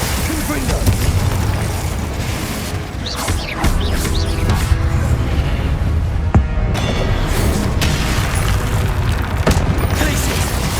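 Spell effects crackle and burst nonstop in the Hogwarts Legacy video game as Confringo, Incendio and Glacius are cast, giving dense booms and pops under a voice shouting.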